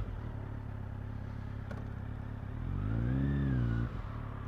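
A 2021 Kawasaki Z900 with a Bodis slip-on exhaust idles with a low rumble, then swells briefly into a short rev before dropping back to idle, close and moderately loud.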